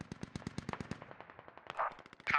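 Automatic gunfire in the video game SquadOps rattles off as a rapid, even burst of shots, followed by a few scattered rounds and a louder crack near the end, moderately loud.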